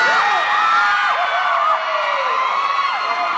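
An audience at a concert press conference screams and cheers, a dense high-pitched shrieking crowd sustained and loud throughout, with overlapping whoops rising and falling.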